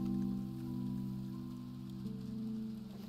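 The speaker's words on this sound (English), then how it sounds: "Oh, nice, it rains." Steady rain patters in a cozy farming video game, a soft, even wash of drops beneath a low sustained musical drone, quiet and unbroken with no voices.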